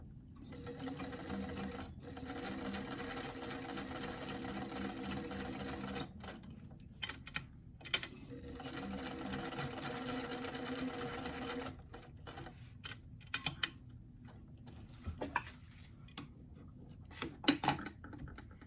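Sewing machine stitching darts and seams on a small doll dress: close, steady runs of stitching with short stops and light handling clicks of fabric between them, no voices.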